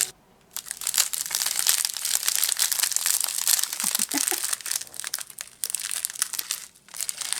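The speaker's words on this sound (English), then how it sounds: "And you get that great ASMR crinkle." Plastic packaging of a French tambour beaded embroidery kit crinkles loudly and continuously right up close, a dense crackling rustle that pauses briefly at the start and near the end, with no one talking.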